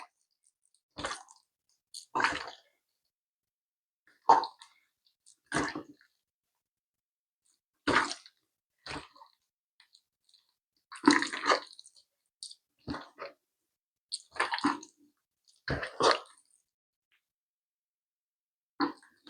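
Fruits for panchamirtham are mixed and mashed by hand, giving intermittent wet squishing and squelching bursts separated by silent pauses, close and fairly quiet, with no talk.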